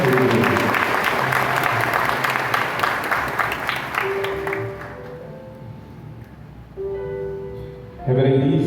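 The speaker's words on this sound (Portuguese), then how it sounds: "salva de palmas ao Espírito Santo de Deus" A congregation at Mass in a Catholic parish church bursts into loud, dense applause. It holds for about four seconds, then thins and fades, and a voice comes in over the quieter room.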